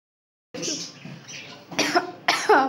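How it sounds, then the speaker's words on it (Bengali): Several sharp coughs from a person at a family rice-eating ceremony gathering, a hoarse burst followed by two louder coughing fits close to the microphone, with faint background chatter. "কাশি উঠে গেল।"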